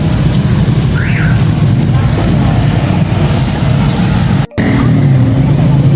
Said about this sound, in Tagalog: Traffic na, traffic na.